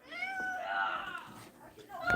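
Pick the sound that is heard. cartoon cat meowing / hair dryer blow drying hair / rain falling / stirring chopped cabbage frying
cartoon cat meowing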